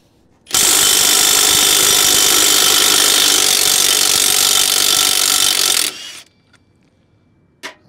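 Hub nut being unscrewed on an MZSA trailer wheel with a worn, wet bearing, a loud continuous grinding whir of a power tool running for about five seconds, then stopping, followed by a brief knock.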